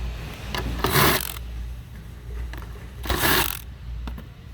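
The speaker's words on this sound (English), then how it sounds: "So I'm going to remove these 4 screws right here." A handheld power driver backs out the screws on an engine air filter box, giving two short, loud whirring bursts with faint mechanical clicks and rattles in between, close up and with no talk.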